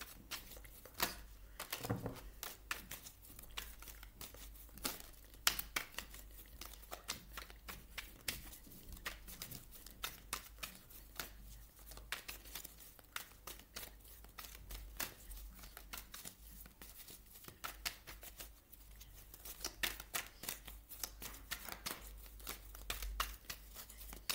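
Tarot cards are handled and shuffled close by in a quiet room, giving a soft, steady run of small riffling clicks and card slaps that carries on for the whole stretch with no talking.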